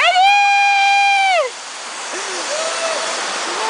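Waterfall at Ilhabela, a steady rushing roar of falling water close by, with a loud shout over it at first and thinner voices above it afterward.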